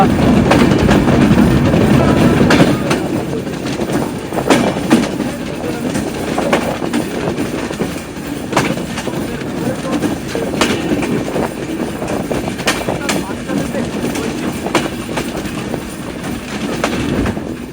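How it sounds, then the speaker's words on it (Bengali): Sagardari Express passenger train pulling out of Mobarakganj railway station in Jhenaidah on a rainy afternoon, with a steady rumble and repeated clickety-clack of wheels over rail joints, close and continuous throughout. "মোবারকগঞ্জ রেলওয়ে স্টেশনে যাত্রা বিরতি শেষ করে আমাদের ট্রেনটি ডিপার্চার নিচ্ছে মোবারকগঞ্জ রেলওয়ে স্টেশন থেকে"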